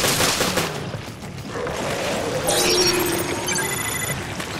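Gunfire rings out in the video game Resident Evil Revelations, a quick run of sharp shots up front followed by ringing metallic tones and game effects.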